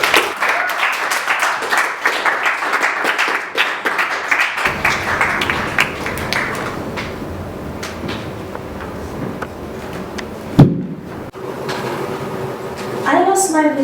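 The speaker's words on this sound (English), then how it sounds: "Can I hear a big applause for Ellie," Audience applause for the poet Ellie at a spoken word poetry event, a dense burst of clapping at the start that thins out and fades into room noise.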